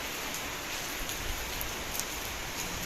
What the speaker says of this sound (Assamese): এয়া বৰষুণ দি আছে